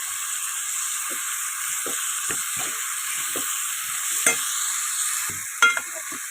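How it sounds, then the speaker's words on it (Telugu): Soaked rice with spices sizzles in a hot pan while a spoon gently stirs it, giving soft scraping strokes at irregular intervals over a steady, bright frying hiss, close by and without talk. "జాగ్రత్తగా తిప్పుకోవాలి, రైస్ విరిగిపోకుండా."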